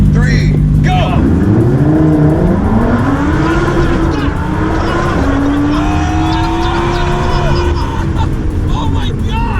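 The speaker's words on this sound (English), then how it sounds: "These two cars go side to side on a straight, like side by side." Two supercars race side by side on a straight, engines roaring and rising in pitch together, revving loudly with tire squeal, while excited voices shout over the noise.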